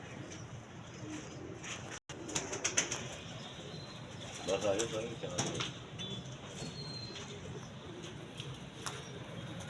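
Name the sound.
pigeon cooing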